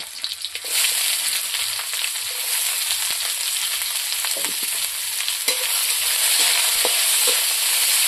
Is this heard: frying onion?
yes